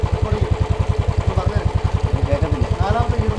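A Royal Enfield Bullet motorcycle engine running in fifth gear, giving a loud, close, steady thumping beat at an even rapid pulse. The thump carries on without a break for the whole stretch.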